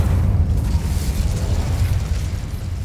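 The Incendio fire spell cast in the video game Hogwarts Legacy, a steady, loud roaring whoosh of flame with a deep rumbling low end that holds evenly throughout, with no talking.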